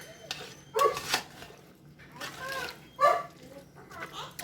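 A pet dog in a home kitchen whines to be let outside, giving two short, high whimpers a couple of seconds apart amid quiet household noise.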